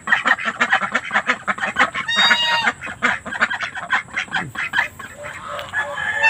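Pekin ducks in a yard quack loudly and continuously in a dense, close chorus of overlapping honking calls, with no talk.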